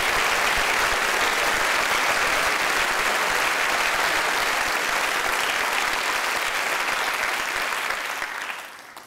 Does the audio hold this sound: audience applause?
yes